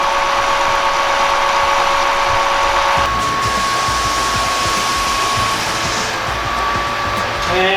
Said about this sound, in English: Pump is on. The water flow. You can tell this one's quite a bit louder.